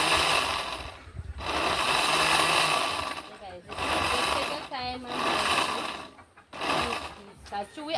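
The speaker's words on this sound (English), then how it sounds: "We're gonna get it really blended up, right?" An electric blender whirs loudly, blending Jamaican strong back punch with milk and nuts in long continuous runs that stop briefly several times, with a voice talking over it between bursts.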